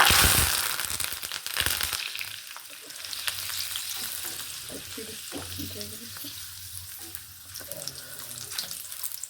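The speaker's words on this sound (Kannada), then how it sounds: "ಈ ಥರ ಚೆನ್ನಾಗಿ ಫ್ರೈ ಹಾಕ್ಕೊಳ್ಬೇಕು ಚೆನ್ನಾಗಿ ಫ್ರೈ ಆಗಬೇಕಿದು" Curry leaves frying in hot oil for a crunchy avarebele mixture, a steady sizzle with crackling pops and some stirring and water sounds, close and moderately loud, no talking.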